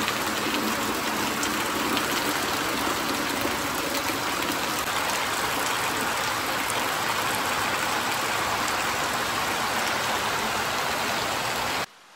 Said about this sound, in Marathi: पाऊस पण जाम पडतो आहे.